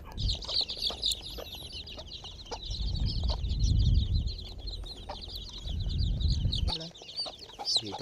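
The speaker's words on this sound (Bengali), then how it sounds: "আমাদের এখানে মোট 22টা মুরগির বাচ্চা ছিল" Domestic chicks at a home poultry setup peep and cluck continuously in high, rapid chirps, close and busy, with occasional low rumbling handling noise beneath.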